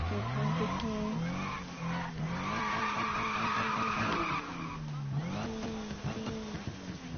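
A supercharged car in the Need for Speed racing game roars continuously with rising and falling engine pitch and loud tire squeal from skidding, filling the whole stretch.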